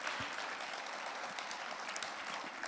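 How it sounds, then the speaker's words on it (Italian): An audience at a traditional singing event claps in a brief, even burst of applause, close and sustained without pause. "Farei un applauso per Nino, perché se lo merita davvero."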